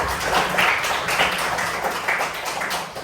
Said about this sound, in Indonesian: Baik, tepuk tangan untuk Alifah.